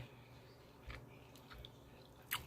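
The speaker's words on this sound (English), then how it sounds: "You hear that crunch?" Soft, close chewing of a crunchy mouthful of Tuscan tortellini soup, a few faint bites and squishy crunches spaced apart, quiet with no speech.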